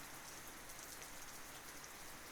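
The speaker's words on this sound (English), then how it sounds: "The cold, hard rain poured on my umbrella" Steady, hard rain patters continuously on an umbrella, a faint, even hiss of drops with no other sounds.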